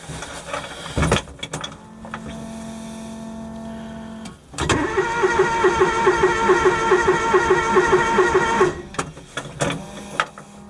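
A John Deere X585 lawn tractor engine cranks at -30 degrees: a short burst, a steady starter whine for about three seconds, then a louder, rougher cranking and catching engine that runs about four seconds before cutting out, close and loud.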